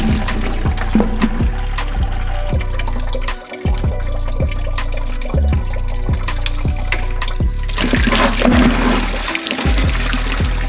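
Water drains and splashes steadily from a car's cooling system, a loud continuous pour with gurgles and brief drops in flow, broken by intermittent knocks.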